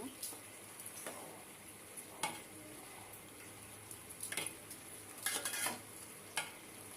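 Meat frying in a pot is stirred, a soft crackling sizzle with intermittent scraping strokes of a spoon, quiet and close without speech.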